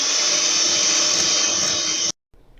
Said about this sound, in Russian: И теперь все взбиваем в миксер.